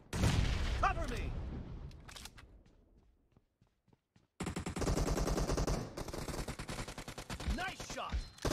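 Bursts of automatic gunfire in a PUBG Mobile arena team match, loud and dense at the start, dropping to a few sparse shots, then resuming as sustained rapid fire with a final burst.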